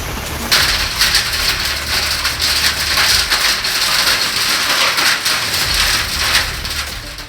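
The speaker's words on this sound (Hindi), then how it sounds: "मध्य प्रदेश के मुरैना में तो पूरे 5 मिनट तक आसमान से ओले बरसते रहे।" Hail pelting down from the sky during a storm in Morena, Madhya Pradesh, a dense, continuous rattling clatter on surfaces, loud and unbroken across the whole stretch.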